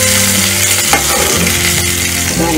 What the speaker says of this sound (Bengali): মাছগুলো অল্প ভাজতে হবে